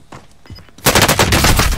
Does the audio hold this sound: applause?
no